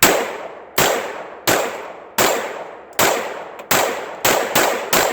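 Pistol shots ring out at a shooting range, eight sharp, loud cracks spaced at about regular intervals, each followed by a decaying echo, the last few coming slightly quicker.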